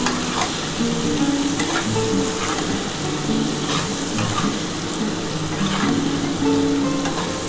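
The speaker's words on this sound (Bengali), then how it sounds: "এবার পেঁয়াজটার সাথে খুব ভালো করে একটু ভাজা ভাজা করে নিই।" Onions fry and sizzle in a pan while being stirred for a Ritha fish curry, a steady close crackle with scraping stir strokes throughout and no talking.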